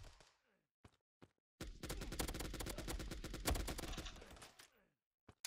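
Rapid automatic gunfire from the mobile first-person shooter game Fire Strike: a long, loud, continuous burst of shots lasting about three seconds, preceded by a few isolated single shots and followed by brief pops.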